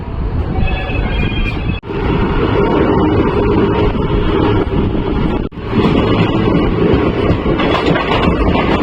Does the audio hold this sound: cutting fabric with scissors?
no